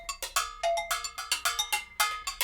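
A signature drum fill from a sample pack plays as a quick run of bright, ringing percussive hits in a steady rolling rhythm, loud and dry, with no voices.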